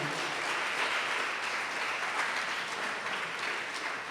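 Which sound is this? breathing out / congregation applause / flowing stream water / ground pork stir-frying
congregation applause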